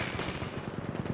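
Rapid, loud machine-gun fire from a heavy tank's gun in Battlefield 1, a dense stream of closely spaced shots with no pause.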